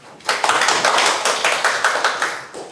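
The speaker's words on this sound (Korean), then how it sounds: "큰 박수로 맞아주십시오." A room of people at a Korean civic press conference claps to welcome a speaker, the applause starting abruptly, then pulsing through a few seconds of close, brisk hand-clapping before tapering.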